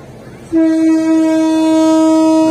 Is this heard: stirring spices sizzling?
no